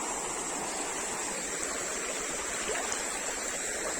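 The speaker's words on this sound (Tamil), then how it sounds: "ஓடுற அளவுக்கு தண்ணி வந்திருக்கு." A rain-swollen stream rushes steadily, a dense, even wash of flowing water that stays constant throughout with no voices.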